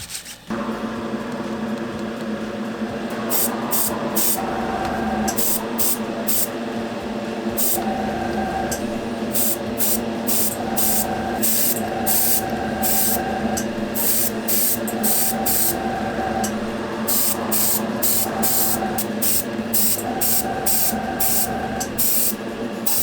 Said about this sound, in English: I'm going to crack out my airbrush and just give parts of this a coat of black